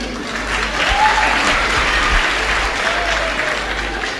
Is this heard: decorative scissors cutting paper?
no